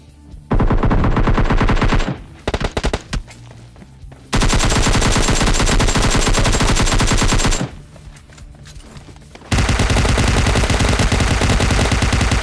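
Loud, continuous automatic gunfire from the PUBG Mobile battle royale game, in sustained full-auto bursts broken by short gaps and scattered single shots, with no talking.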